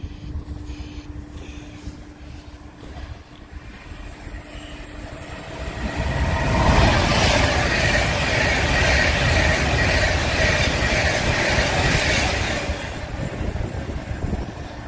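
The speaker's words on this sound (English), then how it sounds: "So, apparently this Pendolino is meant to be coming in 3 minutes. But it's here" A Pendolino train passes through Rugeley Trent Valley station, its roar building from a quieter start to a loud, sustained rush around the middle before easing off slightly at the end, with no talking.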